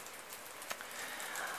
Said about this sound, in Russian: Слышите, брякает. Это град